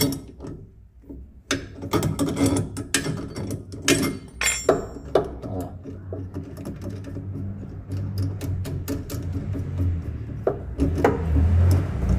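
A bolt being loosened on the control arm of a 1999 Corsa 1.6 during a bushing replacement, heard as close ratcheting clicks, metallic knocks and tool handling in irregular bursts, with no talk.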